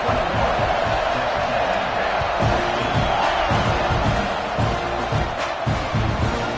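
A packed college football stadium crowd roars steadily at kickoff, a dense, sustained wall of cheering and shouting with a few louder swells, heard from within the stands.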